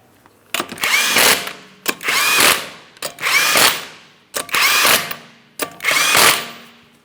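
A power tool, an impact driver or drill, runs down the five 19mm lug nuts on a front wheel of a 2008-2016 Chrysler Town & Country. Five separate loud bursts of about a second each are heard close up, with short pauses between them and no talk.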